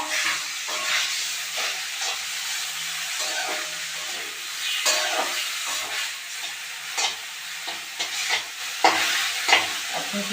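Banana flower frying in a pan with potatoes for mocha ghonto, a steady close sizzle and hiss with stirring scrapes and small crackling bursts throughout, no talking.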